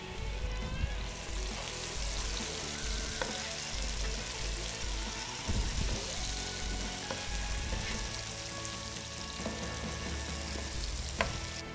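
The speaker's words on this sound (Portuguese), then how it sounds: "Quando chega nesse ponto, vou acrescentar cebola verde." Green onion frying in a pan with oil, a steady dense sizzle that holds close and loud the whole way through, with faint stirring clicks and no talking.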